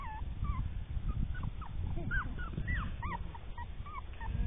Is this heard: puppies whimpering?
yes